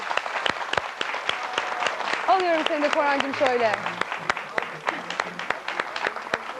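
Studio audience of a Turkish TV show breaking into applause, a dense, sustained wash of clapping heard under a host's talking and a brief sung or drawn-out vocal phrase.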